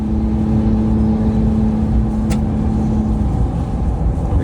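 A 2025 Ram 1500 RHO with a Hurricane engine hauls a large travel trailer uphill, its engine droning steadily and loud with a strong low hum before a brief shift-like break near the end.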